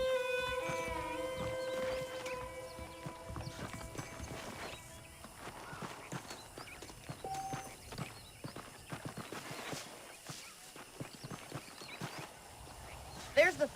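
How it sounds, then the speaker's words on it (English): Horses clip-clop steadily in the video game Red Dead Redemption, their hoofbeats mixed with game music and voices, with a louder clatter near the end. "The horses are saddled up over here."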